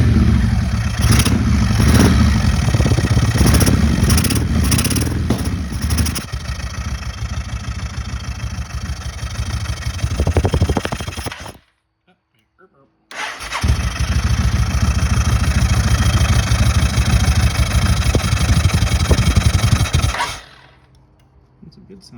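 A Yamaha motorcycle, a battered basket-case bike, cranks and fires up cold, running loud and rough with revs rising and falling, cutting out briefly, then restarting and holding a steady near idle before dropping away.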